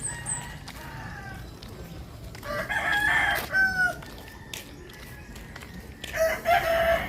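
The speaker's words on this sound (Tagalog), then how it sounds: "Kani kasi paminaw probinsya no kay mga tuktugaw kog manok ba." Roosters crow several times in the rural Philippine countryside, one near and loud, others fainter in the distance, over a rustling outdoor background.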